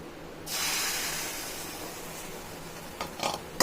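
Liquid batter of poha and coconut for halwa poured into a hot kadai on the stove, a sudden loud broad hiss and sizzle that holds steady for a few seconds, then a few sharper clatters near the end.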